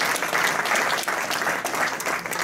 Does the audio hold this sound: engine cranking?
no